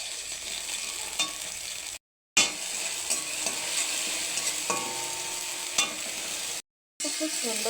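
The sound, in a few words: frying ginger and green chilli paste in a pan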